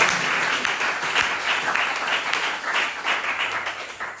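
Applause from a congregation at a Tuesday church service, a dense, steady wash of clapping that holds at full strength for several seconds with no one speaking.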